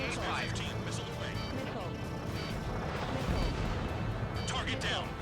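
Ace Combat air combat with missile launches, anti-aircraft fire and explosions: dense rolling booms and crackling blasts under continuous game noise, with several people talking throughout.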